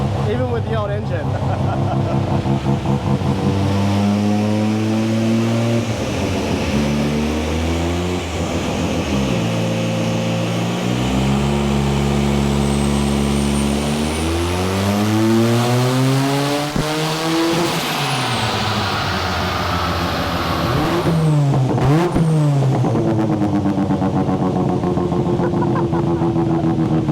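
Bridgeport-ported rotary Mazda RX-7 engine, very loud and close, revving and climbing through gears with sweeping pitch rises and drops over nearly half a minute, with people talking under it.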